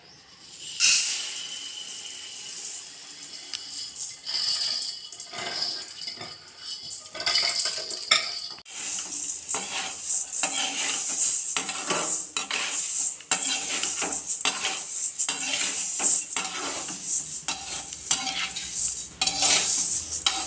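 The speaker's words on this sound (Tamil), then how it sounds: "வானல் சூடான பிறகு 1/2 கிலோ சிறுபருப்பை வறுத்துக்கலாம்." Moong dal lentils being dry-roasted in a hot pan and stirred with a metal spoon for Tamil pongal, with steady scraping and clinking of the spoon against the pan and a light rattle of the dry lentils, loud and close, no talk.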